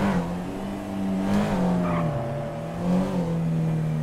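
A Chevrolet Opala engine drones steadily through a street race, its pitch dropping and surging as the driver downshifts, with a brief tire squeal midway and no talk over it.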